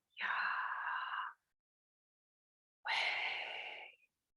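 Two long, loud breaths blown out through the mouth during a guided new moon meditation, each about a second long and separated by a pause, forceful and breathy with no talking.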